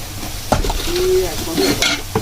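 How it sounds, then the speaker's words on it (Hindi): Chicken curry frying in a pot: a steady, close sizzle with spoon scrapes and clinks against the pot as the mixture is stirred. "अब इसको 1 से 2 मिनट हम फ्राई करेंगे सही अच्छी तरह।"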